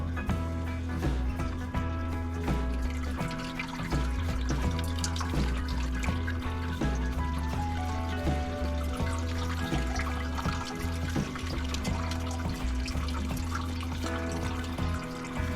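Liquid trickles and runs steadily through a bag of spent grain during brew-in-a-bag all-grain brewing of a Mexican lager, a constant watery flow heard close up alongside steady tonal hum.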